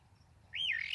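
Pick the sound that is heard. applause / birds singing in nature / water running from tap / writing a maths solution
birds singing in nature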